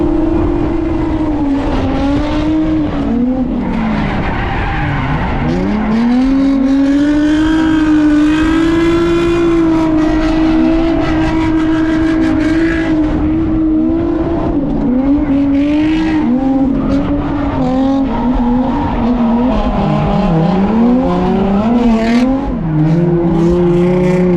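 Race car lapping Ebisu circuit on a rainy day, engine loud and close with rising and falling revs through gear changes, punctuated by tire squeal and skidding through corners, continuous throughout with no talk.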